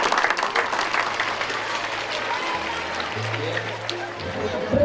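Applause from an audience at a Culture of Peace event with the Peruvian National Police present, dense clapping mixed with crowd chatter and a low hum beneath.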